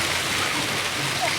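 Steady rain hiss at a beach, a dense broadband wash holding evenly at fairly loud level for the short stretch, with no distinct voices.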